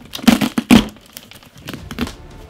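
Packing tape ripped off a cardboard box in two loud crinkling tears close by, then a few softer pulls and crackles.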